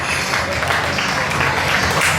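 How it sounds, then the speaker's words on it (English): A county fair crowd at an Iowa show claps loudly after a dolphin act, a thick, continuous burst of applause close up for a couple of seconds. "Give them a big round of applause again."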